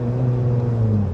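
Tuned 353 bhp Skoda Fabia vRS diesel engine heard from inside the car as the throttle is blipped, a loud deep droning rev that swells and holds briefly, close and continuous without voices.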